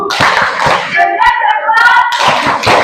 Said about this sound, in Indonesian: Tepuk salut Alandona untuk kelompok 1